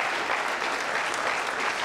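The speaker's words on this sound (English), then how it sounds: "Yeah, clap for that." Steady, dense applause from an audience at a city address, filling the whole short stretch at an even level with no gaps.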